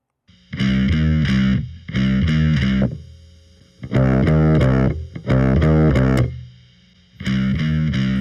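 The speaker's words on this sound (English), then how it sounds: "Like the distortion pedal is really, really changing the sound." An electric guitar played through a distortion pedal into a Helix Native amp sounds out in five loud, thick, saturated chord phrases with brief silent gaps between them.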